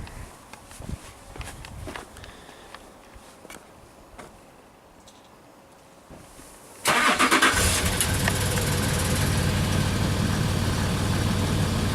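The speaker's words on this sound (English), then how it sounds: "he's going to start the car up for you" A 2006 Land Rover Discovery 3 V6 engine cranks and catches around midway through the clip, then settles into a loud, steady idle after a quieter stretch of cabin handling sounds.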